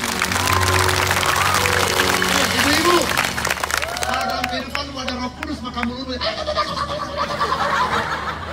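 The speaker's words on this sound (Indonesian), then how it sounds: "Nah, beri tepuk tangan yang paling mulia." Audience applause at an evangelistic church revival night in Ranau, Borneo: dense, steady clapping from a large crowd with shouts and cheering voices mixed in, loud and continuous throughout.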